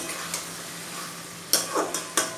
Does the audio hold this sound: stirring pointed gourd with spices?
yes